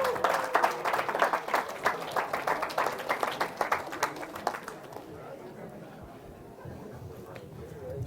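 An audience of students at a university session in Chennai claps in a dense burst of applause that thins out and fades after about five seconds, leaving faint room murmur.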